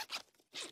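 A zipper being zipped in two quick, close strokes, crisp and bright, with a short pause between them and no talk.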